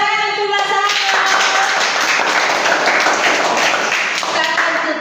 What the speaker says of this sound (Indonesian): Oke, tepuk tangan untuk Lazaro.